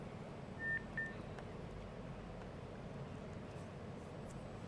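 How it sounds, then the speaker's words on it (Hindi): A telephone line gives two short, clear electronic beeps as a caller's connection drops during a live call-in broadcast, followed by a low steady hum with no voices. "फोन शायद डिस्कनेक्ट हो गया है"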